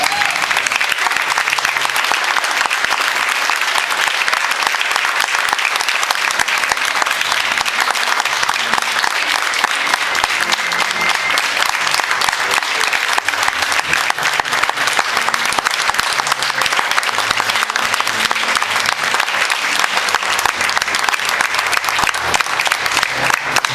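A church congregation applauds at the close of a sermon, a loud, sustained, steady wash of many hands clapping that fills the whole stretch, with faint voices mixed in.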